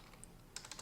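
Keys tapped on a computer keyboard while entering JavaScript code, a few soft clicks near the end of a very short, quiet moment with no talking.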